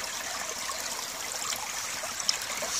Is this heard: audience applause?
no